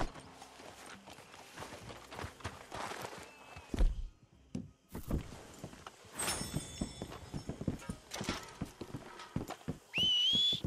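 Horses in Red Dead Redemption 2 clip-clop along at a walk, with hooves thudding near and uneven, a whinny and scattered footsteps and thunks mixed in, and a high whistle near the end.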